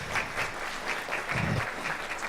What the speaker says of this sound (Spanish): si podemos despedir con un fuerte aplauso al panel